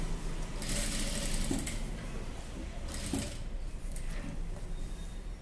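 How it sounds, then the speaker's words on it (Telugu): A sewing machine runs in steady bursts while stitching buckram cloth for a neck design, a close, fairly quiet mechanical whir with brief pauses between runs. "ఇక్కడ నుంచి ఇక్కడ వరకు మనం మెజర్మెంట్ అనేది ఇప్పుడు స్టిచ్చింగ్ చేసేసుకుందాం"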